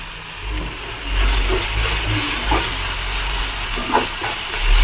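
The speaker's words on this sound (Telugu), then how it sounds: "ఆనియన్స్ ఫ్రై అవుతాయి" Onions and green chillies sizzle in a pan with a steady, hissing, steam-like fry at moderate loudness, marked by a few small pops and bursts.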